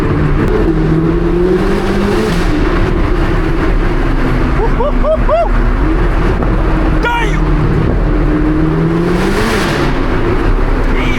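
A loud 1064-horsepower Corvette C8 ZR1 engine drones and rises in pitch as it accelerates at night in downtown Chicago, with a voice exclaiming briefly partway through.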